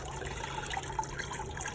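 Water runs steadily through a gold prospecting setup beside Lake Superior, a continuous close trickle and gush with no talking over it.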